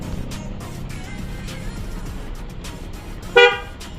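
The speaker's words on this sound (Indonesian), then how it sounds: "ini pasang klakson keong stereo di sana" A single short, loud blast from a stereo snail horn on a Bajaj Pulsar 200NS motorcycle, bright and harmonic, sounds near the end over steady engine and traffic rumble.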